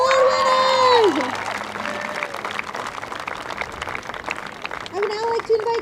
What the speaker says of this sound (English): Big round of applause for our special award winners!